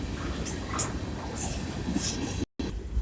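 A freight train hauled by orange locomotives rumbles past nearby, a dense, continuous roar of wheels and rail noise with no voices over it.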